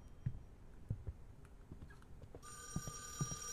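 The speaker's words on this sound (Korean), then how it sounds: "전화 왔다" A telephone rings in a horror video game set in an abandoned apartment, its bright electronic ring starting partway through after soft scattered footsteps and taps. The ring is fairly clear over a quiet background.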